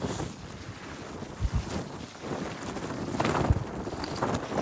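Strong wind buffets a microphone on a cold morning at an anglers' fishing spot, a continuous gusty roar with several low thumping blasts, loud and close, with no talking.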